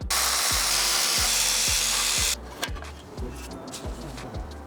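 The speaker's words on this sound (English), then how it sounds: "So I basically just have to get all these bolts undone and then also unbolt this right here" Bolts on the intake manifold of a BMW X5 35d diesel are undone with a power tool, producing a loud steady rapid ratcheting burst that cuts off, followed by quieter clicks and handling noises nearby.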